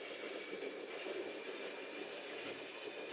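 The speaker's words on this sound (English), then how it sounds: "Sorry for the LRT train, that's unavoidable." A light rail LRT train passes outside, a steady broadband rumble and rolling hiss with faint wheel clatter, distant and continuous with no one speaking.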